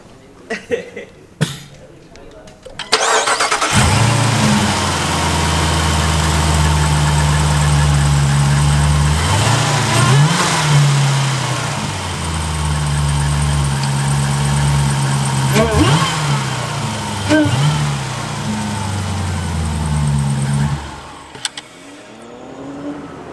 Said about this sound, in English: This thing was whining like crazy. The supercharger, right?